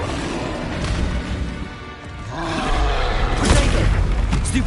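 A Confringo blast spell explodes in the video game Hogwarts Legacy, a loud booming burst that swells midway and stays heavy and roaring to the end, with no talk over it.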